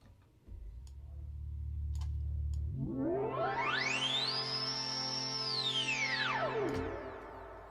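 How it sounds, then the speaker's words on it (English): A Knifonium analog synthesizer tone sweeps upward to a high shimmering pitch, holds, then glides back down, trailing echoing delay repeats and a wash of reverb. "how on earth is this thing producing that kind of delay and reverb sound?"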